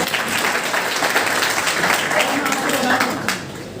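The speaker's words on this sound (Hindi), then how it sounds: "तालियां बजाते रहो।" A room of students at a coaching class for exam candidates keeps up continuous, loud clapping, a dense steady wash with voices faintly mixed in.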